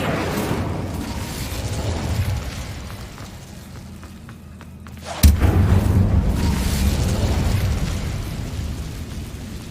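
Casting the Incendio fire spell in Hogwarts Legacy, a rumbling fiery roar dips quieter, then a sharp burst hits and the blaze surges back, loud and sustained.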